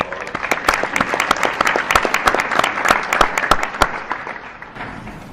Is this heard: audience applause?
yes